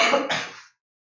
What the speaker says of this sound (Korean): 콜록콜록